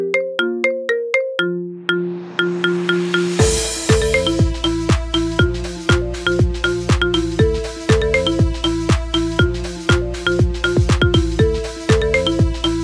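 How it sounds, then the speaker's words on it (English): A marimba remix of a song plays as a phone ringtone: bright, evenly paced mallet notes with a steady beat, a short melodic intro before a fuller, busier pattern takes over, loud and close with no voices. "Get this cool ringtone for your phone now."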